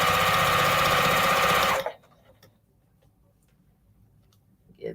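A sewing machine stitches binding onto repurposed plate mats, a loud steady whir running for about two seconds before cutting off abruptly, leaving a near-silent room with faint clicks and a brief sound at the end.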